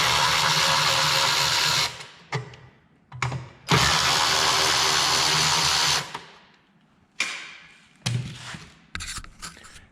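Power tool removing 8mm bolts from the fuel tank of an abandoned Honda generator, several loud whirring bursts of a few seconds each, separated by short pauses and brief clicks.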